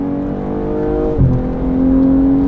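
A 2022 BMW M240i xDrive engine drones steadily, then its pitch shifts and climbs as it accelerates hard at full throttle, loud and close.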